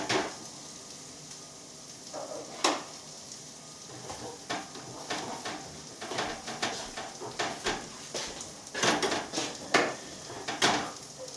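Food flipped in an oily frying pan, with a continuous sizzle under a series of sharp scrapes and clatters of utensil against pan, close and moderately loud, no talking.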